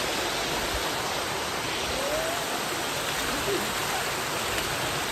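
Rain falling near Jawhar Ghat waterfall, a dense, steady hiss of water that continues evenly throughout without any distinct individual drops.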